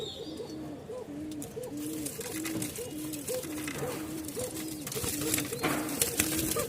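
A Rajshahi Giribaz pigeon coos close by in a steady series of repeated rolling calls, with a faint background hum.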